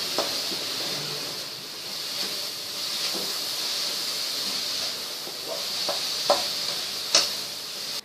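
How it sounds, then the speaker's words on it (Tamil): Carrots sautéing in a pan over a high flame for carrot halwa, giving a steady close hiss with occasional louder crackles and small stirring knocks, no talk. "இப்ப ஹை ஃபிளேம்ல வச்சுதான் வதக்கிட்டு இருக்கிறேன். கொஞ்சம் சாஃப்ட் ஆகணும் கேரட்டு."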